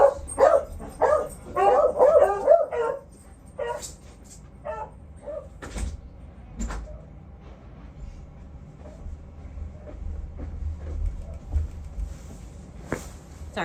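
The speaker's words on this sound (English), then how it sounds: "she just sees Daisy barking and that sets her off" A few dogs, including one named Daisy, bark in a quick, loud cluster at the start, followed by scattered fainter yips and thumps in an indoor room.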